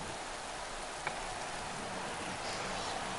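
Steady rain hiss at Silverstone in the MotoGP racing game, a continuous even wash of falling rain on the grid with no talk.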